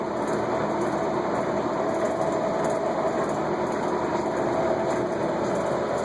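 The spindle of a Monarch 20 x 144 engine lathe runs in a workshop, giving an even, continuous mechanical hum and whine that holds steady at one level with no pauses.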